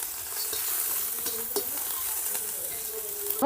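Dried whole chilies, curry leaves and mustard seeds sizzle and crackle steadily in a little hot oil, with occasional sharp pops and stirring.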